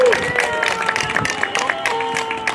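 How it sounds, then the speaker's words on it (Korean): A rally crowd at a Vancouver gathering celebrating a presidential inauguration breaks into brief, moderately loud applause and scattered cheering, with a voice speaking over the clapping. "박수 한번 하십시다"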